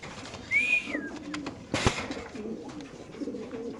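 Racer pigeons coo at a pigeon farm, low throaty calls rolling on close by, with a sharp rising bird call and a brief clatter over the top.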